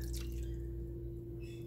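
A soft, quiet trickle of liquid being poured while cooking Korean-style beef ribs, over a steady low background hum.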